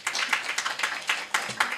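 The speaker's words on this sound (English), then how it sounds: "Let's give them a big hand clap," Audience clapping at a research convening: a loose burst of hand claps with distinct sharp individual claps in an uneven rhythm, fairly close and loud, no talking over it.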